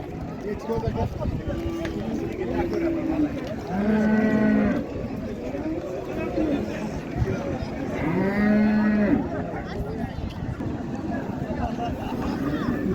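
Cattle low repeatedly at a busy livestock market, two drawn-out moos rising clearly above a steady din of crowd chatter and people talking nearby.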